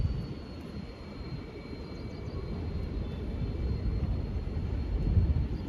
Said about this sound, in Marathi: आता गाईज आपला ड्रोन येते रिटर्न